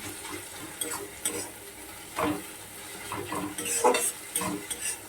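Grated ginger frying in hot oil for a Bengali fish curry, stirred with a utensil that scrapes and clinks against the pan several times over a constant soft sizzle, heard up close with no voices.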